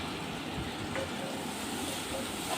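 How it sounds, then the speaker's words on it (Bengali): Frying masala in a pan hisses steadily as water is added, a dense, even sizzle close by with no voices over it. "একটু জল দিয়ে দিলাম,"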